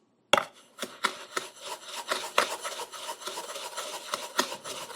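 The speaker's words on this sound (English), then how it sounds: "the fork really just helps get everything well combined" A fork scrapes and rubs through brown sugar in a bowl, made by mixing white sugar with more sugar, in a run of quick rhythmic gritty strokes, close and moderately loud with no talking.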